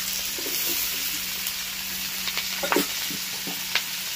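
Onions, both cubed and finely chopped, sizzle in a hot pan for restaurant-style chilli chicken, a steady close hiss with a few soft stirring clicks and no talking.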